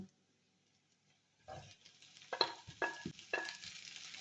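Green beans tumble into a hot pan of leftover crispy chicken, setting off a sudden burst of loud, close sizzling frying that keeps crackling, with a few stir scrapes and clatters, after a second of near silence.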